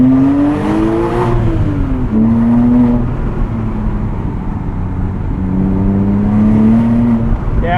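2006 Porsche Cayman S with a 6-speed manual heard from inside with the windows down, its engine droning loudly in first gear, the revs rising and falling in several smooth swells, steady throughout.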